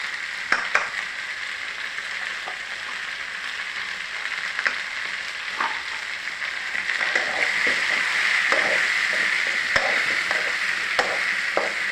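Onion and asafoetida fry in a pan with a steady bright sizzle, punctuated by sharp scrapes and clinks of stirring, close and fairly loud, with the sizzle building slightly over time.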